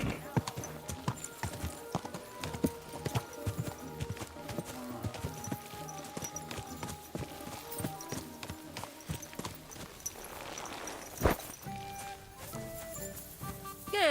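Horse hooves clip-clop steadily at a riding pace in the medieval game Kingdom Come Deliverance II, a crisp, rhythmic series of close, distinct strikes with soft ambient sound beneath and a brief whoosh near the end.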